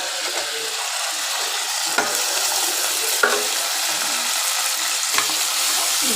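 Ground ginger, garlic and shallot paste fries in a hot pan for sundal biryani, a continuous loud sizzle broken by a few scraping stirs of the spoon, with no voices.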